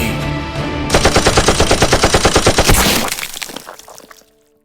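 Gunfire aimed at Captain America in a Lego animation, a loud rapid machine-gun burst of evenly spaced shots lasting about two seconds, followed by crashing debris that fades into silence.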